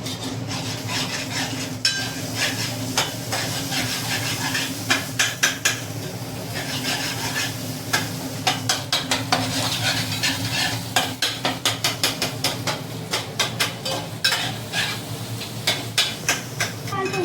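Food fries in a pan with a steady sizzle while a utensil stirs it, giving repeated sharp scraping clicks that quicken toward the end, close and fairly loud with no talking.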